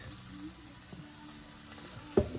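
Steady low sizzling and crackle of carrots frying in an air fryer, with a soft background hiss and a brief clatter near the end.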